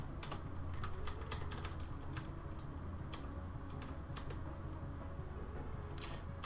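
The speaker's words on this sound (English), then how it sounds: "You have to hit Enter and then start typing." Steady typing on a computer keyboard while editing a spreadsheet, with quick irregular key clicks and an occasional heavier tap over a constant low room hum.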